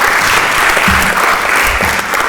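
An audience at a tech talk on audio processing bursts into steady, close, loud applause that fills the whole moment with no talking over it.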